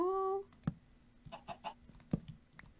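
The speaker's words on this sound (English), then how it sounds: "We got a chicken!" Minecraft chicken clucks in the game, a few short clucks spread over about three seconds, moderately loud, after a brief steady tone at the start.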